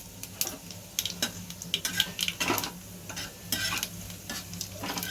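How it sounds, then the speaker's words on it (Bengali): Black cumin and a dried chilli temper in hot oil, crackling and sizzling under repeated scraping strokes of a spoon against the pan, in quick irregular bursts at close range, with no speech. "তার সঙ্গে একটা শুকনো লঙ্কাও আমি ফোড়ন দিয়ে দিলাম।"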